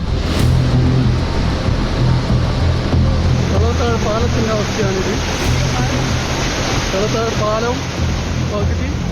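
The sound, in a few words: flooded river rushing over a bridge after heavy rain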